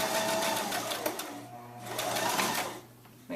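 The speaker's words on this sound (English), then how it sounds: "After you sew your regulation seam on the rectangle of the scrunchie casing" Sewing machine stitching a seam along the rectangular fabric casing of a scrunchie, a steady mechanical whir that runs in close bursts with a brief pause partway through.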